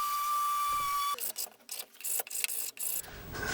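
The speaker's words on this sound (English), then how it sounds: "A dab of filler and some careful sanding finishes everything up." Irregular raspy scraping strokes of hand sanding wood filler on a display column, close by, starting after a brief steady whine and continuing in uneven bursts.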